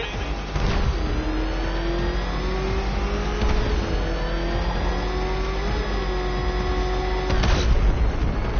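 A racing car engine in a video game drones steadily and loudly under a continuous whine that rises and shifts in pitch, with a few sharp bursts and a voice speaking over it.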